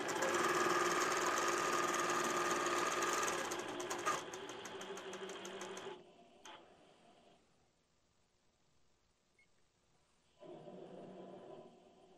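An INNOVA AutoPilot longarm quilting machine runs with a loud, steady rapid stitching whir for about six seconds, then quiets to faint mechanical sounds before a short burst of stitching resumes near the end.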